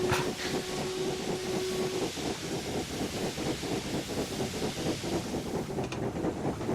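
A steam locomotive whistle in the Train Sim video game gives a steady tone for about two seconds, then continues more faintly under loud, constant hissing steam and chuffing.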